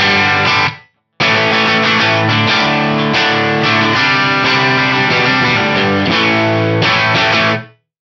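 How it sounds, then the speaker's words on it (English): An electric guitar plays sustained chords and notes with a soft room reverb tail, loud and continuous, with a brief gap near the start. "It is a lovely subtle room style reverb on there"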